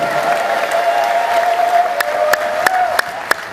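A church congregation claps together, a dense patter of applause over a steady sustained tone, with a few sharp, distinct claps standing out near the end.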